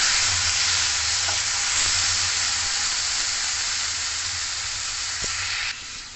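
Chopped tomato pieces fry in a hot pan on low flame for tomato chutney, giving a loud, even, close-up sizzle that holds steady throughout and eases slightly at the very end.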